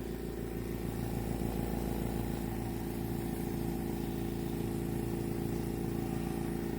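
A Black Widow airbrush compressor runs quietly and steadily, giving a constant low hum with a faint buzz throughout and no talking.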